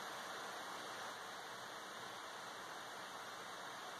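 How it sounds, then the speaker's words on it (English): Steady rushing roar of a waterfall beside an Appalachian Trail campsite, broad and constant with no breaks, fairly close and alone. "I've got a waterfall to my right."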